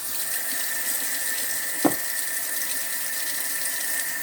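Water from a kitchen sink tap runs in a steady, close hiss, broken once by a brief clunk or splash.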